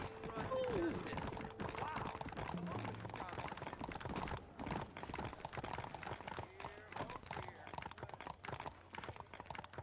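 Horse hooves clip-clopping steadily on a street in the Red Dead Redemption video game, a continuous close rhythm mixed with game sounds and spoken dialogue.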